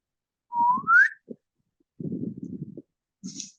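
A voice whistles a rising, sliding tone in imitation of a slide whistle, followed by low rumbling mouth noises and a short hiss.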